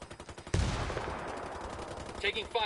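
A sharp, loud gun blast in Ghost Recon Wildlands hits suddenly and rings out with a long decaying echo, followed by a few faint clicks and smaller shots at the end.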